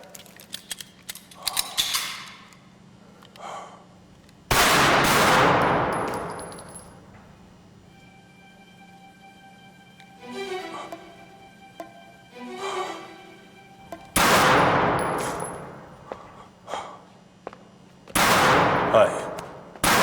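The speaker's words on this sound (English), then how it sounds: "Ready to fire. Fire." Shots ring out on a shooting range firing line as a few loud, sharp bangs spaced seconds apart, with quieter metallic handling noises and spoken range commands between them.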